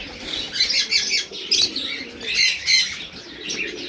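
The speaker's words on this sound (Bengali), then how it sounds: "এই যে লফট খোলা হয়েছে, একে একে পায়রা বেরোচ্ছে" Pigeons leaving an opened loft in Kolkata, with bursts of wing flapping and light chirps repeating in quick flurries at close range, with no one talking.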